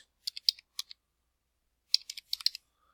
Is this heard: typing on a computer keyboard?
yes